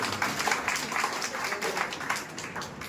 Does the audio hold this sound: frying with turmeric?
no